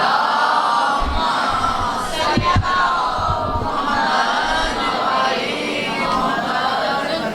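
A large congregation at a majlis gathering recites salawat together in one loud, sustained chorus of many voices, echoing and blended, with a few brief knocks partway through.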